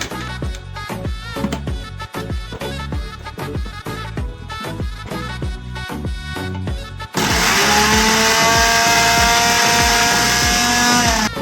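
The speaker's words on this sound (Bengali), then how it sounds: "এটা এখন ব্লেন্ড করতে হবে, তো এই যে এখন আমরা ব্লেন্ড করে নিব।" An electric blender chops onions and green chilies in loud, rapid pulses that give way to a steady high-pitched whir as the motor runs continuously, close and alone without voices.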